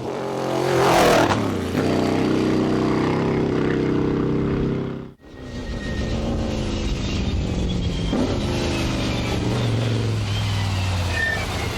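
An off-road trophy truck engine roaring loudly up close, revving hard with a brief cut midway before the throttle picks up again and keeps droning.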